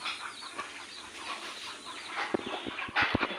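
Chickens on a free-range poultry farm clucking softly in a short burst, a few close, separate clucks standing out over quiet outdoor ambience.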